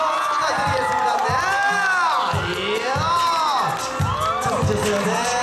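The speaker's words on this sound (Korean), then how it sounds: "힘찬 박수 한 번 부탁드리겠습니다" Fans at a Jay Park fan signing cheering loudly, with screams and whoops rising and falling over clapping in a dense, close crowd.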